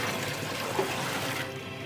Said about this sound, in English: Step 1, 10 kilos of clean water into the mixing bucket